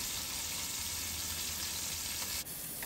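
Chopped onions sautéing in about half a cup of hot oil in a pan on the stove, a steady close sizzle with a faint stirring scrape near the end, no talking.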